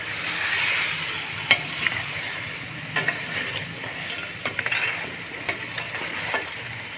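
Mutton trotters sizzling in a pan with yogurt, a continuous hiss broken by sharp clinks and scrapes of a spoon stirring, fairly close.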